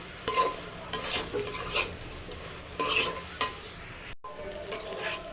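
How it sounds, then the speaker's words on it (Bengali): A spatula stirs spinach and egg in mustard oil in a pan, giving repeated scraping strokes over a soft, steady sizzle. The stirring sits close and moderately loud, and there is a short gap near the end. "এখন আমি সরষের তেল একটু দিয়ে দিই দিয়ে নেড়ে চেড়ে মিশিয়ে নেব"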